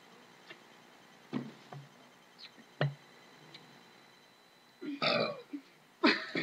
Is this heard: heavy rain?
no